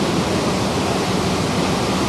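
A waterfall beside a hotel roars as a steady, dense rush of falling water, loud and unbroken throughout, with no voices.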